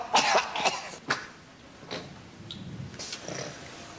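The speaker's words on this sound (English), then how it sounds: "I can't stop coughing." Several harsh coughs in quick bursts, fairly close, followed by quieter throaty sounds and faint movement.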